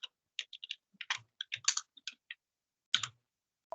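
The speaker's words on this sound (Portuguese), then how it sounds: "eu posso só clicar e apertar F2" A computer mouse clicks, then keys on a keyboard are pressed. The keystrokes come as a string of sharp, close clicks with short gaps between them and a louder double click near the end. No one is talking.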